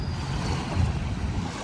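Rough, choppy waves and strong gusting wind along the Manila Bay shoreline by Dolomite Beach make a continuous low rumbling roar, with wind buffeting the microphone.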